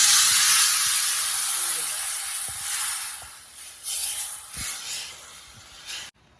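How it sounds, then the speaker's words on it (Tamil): Tamarind extract poured into a hot pan of fried, ground curry leaf paste for a curry leaf thokku gives a loud, bright sizzling hiss. The hiss is strongest at first, then gradually eases and flares briefly before cutting off. "இப்போ புளிக்கரைசல் ஊற்றுறேன்."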